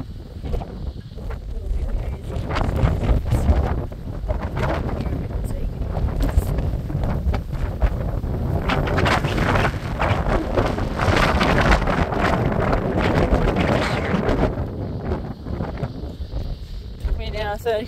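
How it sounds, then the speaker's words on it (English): Strong gusty wind on the summit of Mt Larcom buffets the microphone in a steady roar with rumbling low gusts, while someone talks through it. "It's a bit windy up here today."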